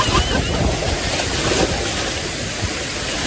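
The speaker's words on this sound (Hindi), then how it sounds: "लहर आ रहा है, देखो लहर आ रहा है पूरा।" Water surging and splashing in a waterfall pool at Hiradpada, Jawhar, a steady loud rush with wind buffeting the microphone throughout, no clear talk over it.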